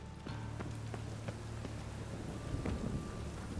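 Rain falls in The Witcher 3: Wild Hunt, a soft steady wash broken by a few short distant thunder cracks and rumbles, with no speech.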